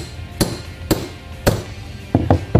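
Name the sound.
hammer tapping sleeve into suspension bushing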